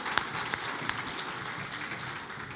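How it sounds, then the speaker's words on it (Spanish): A church congregation claps loudly for Jesus, a continuous wash of applause with a few sharper claps standing out early on. "Vamos a hacer el aplauso fuerte al Señor Jesús."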